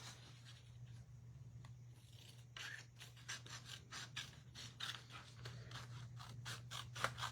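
Material being trimmed by cutting: a series of close, crisp snips and rasping scrapes in quick irregular succession over a steady low hum, with no talking.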